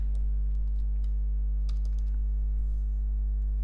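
Computer keyboard keys click in irregular bursts as code is typed, close up over a constant low electrical hum, with no voices.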